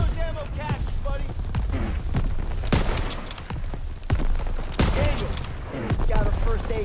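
Heavy gunfire and explosions in a Call of Duty battle, with sharp repeated shots and booms over loud combat, as voices shout through the action.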